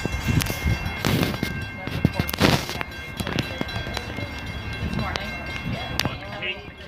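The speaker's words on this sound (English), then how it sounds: "Train's probably gonna stop way down there." A Metra MP36-3S locomotive pushes an inbound commuter train arriving at Oak Forest station, rumbling and clanking nearby with sharp metallic bangs and squeals, with people talking in the background.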